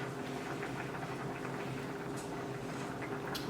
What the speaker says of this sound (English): the rice ya está hirviendo